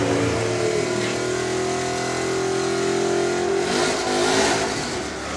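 Doorslammer drag racing cars roar close and loud as they accelerate down the strip, a sustained rising engine drone with no talking over it.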